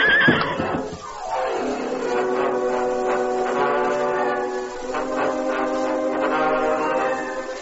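A paint horse stumbles and neighs: a loud, close, drawn-out whinny that falls in pitch, then a second long shaky whinny, with no talk over it.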